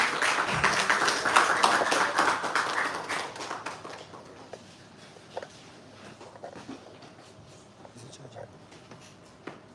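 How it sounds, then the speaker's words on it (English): Applause breaks out from the audience at the Cameroon Schools Debate Championship national finals, a dense burst of clapping that peaks early and fades into scattered claps and room noise as the hall settles. "can we please give a wonderful round of applause?"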